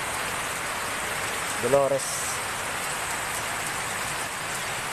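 Heavy rain pours down in a dense, steady hiss throughout. A single word is spoken briefly over the downpour partway through.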